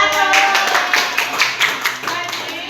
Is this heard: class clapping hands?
yes